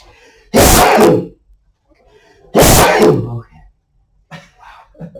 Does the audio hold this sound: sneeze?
yes